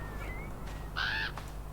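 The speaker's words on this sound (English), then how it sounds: "Oh, Crow, thank you for directing me." A single harsh caw from a crow in the Norwegian setting of the game Draugen, one short clear call, moderately near, over a steady low ambient hum with a faint earlier chirp.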